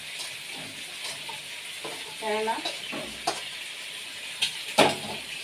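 Steamed potatoes sizzle in a small amount of oil while a spoon stirs and scrapes the pan now and then. A brief spoken word comes through over the frying.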